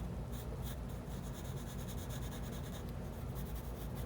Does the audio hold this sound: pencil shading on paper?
yes